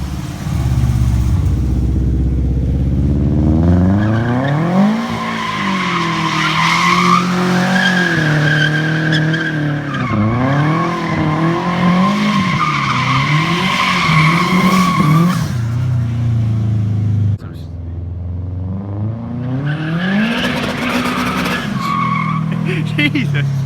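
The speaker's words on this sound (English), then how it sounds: "The external wastegate just sounds amazing. Just that turbo, man, it's so damn big." A big-turbo, rear-wheel-drive-swapped Subaru drifts with an external wastegate, its engine surging and falling under continuous loud tire skidding and squeal, with a brief dip before the roar returns.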